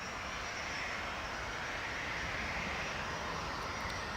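Logan Air Embraer 145 regional jet sitting just outside at Newcastle International Airport, giving a steady, continuous engine roar with a broad hiss that holds level and fairly close throughout, no voices.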